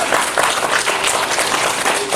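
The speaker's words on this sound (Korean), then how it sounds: "네, 박수." A church congregation breaks into brisk, dense applause during a Sunday morning service, a short steady round of many hands clapping close by.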